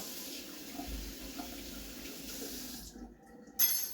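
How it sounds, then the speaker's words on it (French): Tap water runs steadily into a sink as a spoon coated with medicine is rinsed, a continuous close splashing flow that cuts off near the end, followed by a brief knock. "Je vais rincer la cuillère tout de suite."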